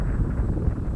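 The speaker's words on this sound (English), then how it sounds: "Quite gusty now." Gusty wind buffets the microphone outdoors at an RC biplane flying field, a loud, rough, continuous low roar that swells and dips throughout.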